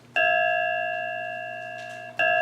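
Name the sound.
measuring bowl tones played as MIDI pitches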